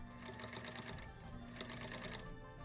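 A sewing machine stitches fabric for a wallet, a quiet, fast mechanical rattle in two short bursts separated by a brief pause, with no talking.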